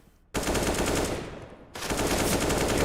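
Rapid automatic gunfire from a Counter-Strike esports match, loud sustained bursts of shots with a short break between them.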